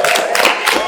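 Audience applause for Himakom, a dense, even burst of clapping and crowd noise lasting under a second, steady and close with no talk over it.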